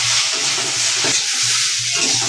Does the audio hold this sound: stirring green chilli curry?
yes